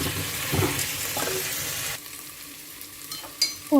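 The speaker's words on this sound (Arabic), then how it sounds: "صافي بعد ما تقلى ليا شويه البصله مع البطاطا والثومه" Onion, potatoes and garlic fry in a pot for lentil soup, sizzling up close while a utensil stirs and scrapes, with the sizzle dropping partway and a few knocks at the end.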